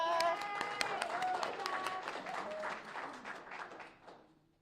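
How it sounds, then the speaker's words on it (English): A crowd at an evening school voucher protest claps and calls out, with raised voices and cheers over scattered clapping, the noise tapering off and fading to near silence over about four seconds. "Give a round of applause to Miss Geneva."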